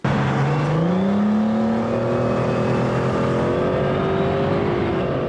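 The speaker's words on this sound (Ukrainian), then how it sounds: "Ось вона, їхня машина, мчить по часовому яру" A military vehicle with a rear ramp speeds along a road, its engine loud and close with a steady whine rising and shifting in pitch as it accelerates, no voices over it.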